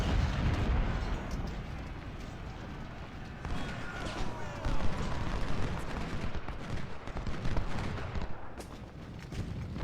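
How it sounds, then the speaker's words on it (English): Booming 24-pounder artillery in the Civil War strategy game Ultimate General: Civil War, Prairie Grove battle, a dense continuous rumble of distant cannon fire and battle noise with no talking. "These 24-pounders doing a good job as always"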